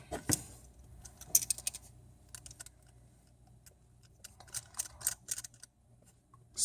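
Six small screws being unscrewed on an iPhone 6 during an LCD and glass replacement, heard as faint, sparse metallic clicks and ticks from a close driver, with quiet pauses between turns.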